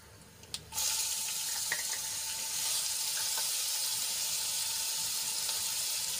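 Chili and garlic paste sizzles in hot oil alongside curry leaves, a steady loud hiss that begins abruptly and carries on evenly with a few faint clinks.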